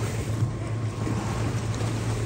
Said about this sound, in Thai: เรือวิ่งดีมากเลยนะครับดูวิ่งนะครับดูนะครับวิ่งแบบเรือเร็วเลยนะครับ